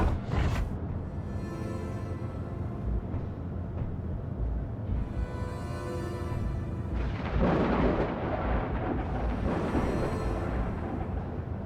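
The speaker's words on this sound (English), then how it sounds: "this is a pretty violent storm, this one." A violent thunderstorm in the video game Space Engineers, with deep rolling thunder building in long waves over steady rain-like noise, loud and continuous with no talk.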